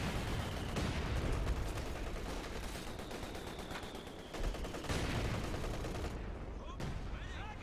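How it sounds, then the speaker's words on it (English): Bursts of MG34 machine-gun fire from a Company of Heroes 2 battle roll on steadily amid other gunfire and explosions, loud and dense throughout with no clear pauses. "MG34 is laying into the squad"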